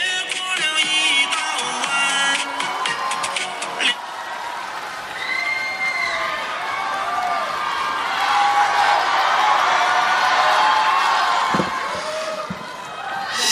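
A theater crowd applauds and cheers as crosstalk comedians Yue Yunpeng and Sun Yue of Deyunshe take the stage. Dense clapping fills the first few seconds, then settles into a softer wash of cheering and murmur.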